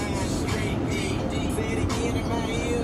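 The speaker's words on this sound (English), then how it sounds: "There's a bunch of traffic out here going to the borough this" Morning road traffic heading toward the borough, a continuous close rumble of passing cars with a steady low engine and tyre roar.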